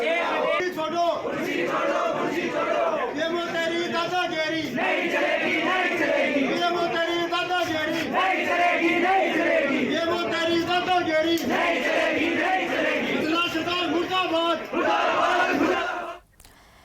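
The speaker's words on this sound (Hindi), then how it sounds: "लोगों का गुस्सा आज अस्पताल के बाहर भीड़ के रूप में नजर आया" A crowd of young people protests outside a hospital in Didwana Kuchaman over its mismanagement, shouting and chanting loudly and continuously in overlapping voices before the noise cuts off abruptly at the very end.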